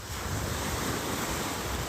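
Sea surf rolling onto Pantai Gurenggeh beach in Marang, Terengganu, on an afternoon, a continuous dense wash of waves mixed with wind buffeting the microphone, no voices.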